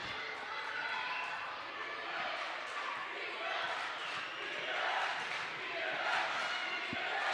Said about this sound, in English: And the crowd's starting to get into it too as well. The band, the student section.